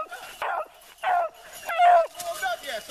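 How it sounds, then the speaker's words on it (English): Rabbit hunting dogs bark and yip in short bursts at moderate distance during a hunt, the bouts spaced irregularly with faint background sounds between them. "I want to hear the dogs"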